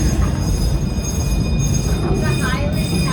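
A park train at Busch Gardens Williamsburg rumbles and rattles steadily as it rolls along, with squealing wheels and a continuous loud mechanical drone; voices talk over it.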